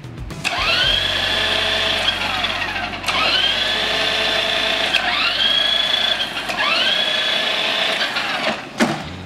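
XVIO 2.4G remote-control bigfoot truck with lipo battery and 4WD drivetrain revving indoors, its electric motor whining up in pitch in four repeated bursts, close and fairly loud over a low steady hum.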